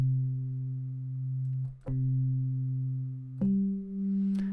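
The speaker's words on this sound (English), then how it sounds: "We have a sine wave." Steady low sine-wave tone from an Arturia SQ80 V software synthesizer, held continuously at moderate level with two brief clicks where the pitch shifts slightly, no voices.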